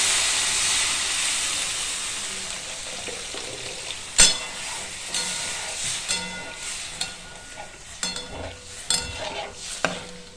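Water poured onto spices frying in a pan bursts into a loud hiss and steamy sizzle that fades gradually, followed by scattered spoon scrapes and clinks as the mixture is stirred, with no talking.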